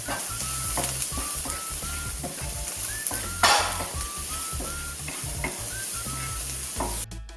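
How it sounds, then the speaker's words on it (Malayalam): Onions sauté with salt in a hot pan. A bright, constant sizzle runs under repeated close scrapes of a spatula pushing them around, with one louder knock midway. "ഇത് നന്നായിട്ട് വഴറ്റിയെടുക്കണം"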